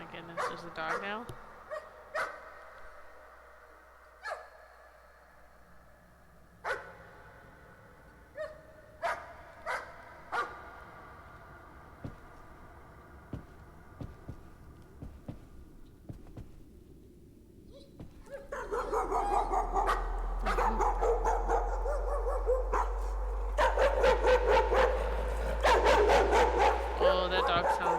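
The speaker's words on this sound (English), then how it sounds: "Oh, that dog sounds really mad." An angry dog in Call of Cthulhu barks in a rapid series of sharp barks and yips, then a louder, denser stretch of barking over a deep rumble.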